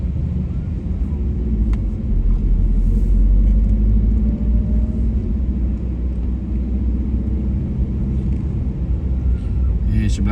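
Street traffic in Sengkang town, on a road often congested because of cars parked along the roadside, forms a loud, steady low rumble of engines and tires that holds through the whole stretch.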